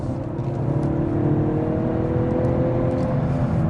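A 2017 Lincoln MKZ 2.0T accelerates with a steady, smooth engine hum and road whir heard from inside the cabin, building slightly and holding even throughout.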